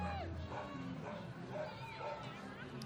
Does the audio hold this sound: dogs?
yes